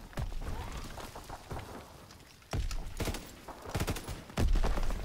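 Gunfire from a Call of Duty WWII zombies match, with bursts of machine-gun shots and heavy thuds arriving in clusters, loud and close, with quieter stretches of noise in between.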